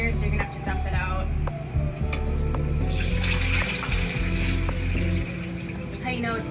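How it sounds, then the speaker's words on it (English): Leftover water pours out of the upper chamber of a Berkey water filter, a close, steady splashing rush lasting a few seconds mid-clip, framed by plastic clunks and handling knocks over a low background hum. "There's still water in here, so you're gonna have to dump it out."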